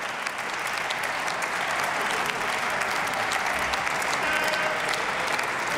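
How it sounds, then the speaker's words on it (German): Members of a parliamentary chamber applaud during a budget debate, a steady, dense wash of clapping that holds at an even level throughout with no voice on top. "Applaus"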